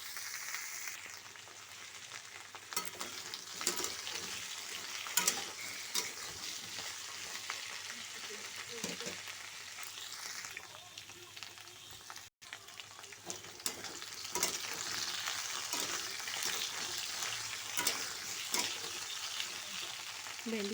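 Okra frying in a pan with a constant dense sizzle and crackle close up, occasional soft stirring scrapes over about twenty seconds, no one speaking.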